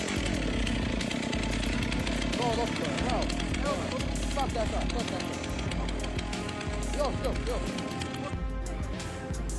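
A chainsaw engine roars continuously, revving up and down as it runs, loud and close, with voices faintly underneath.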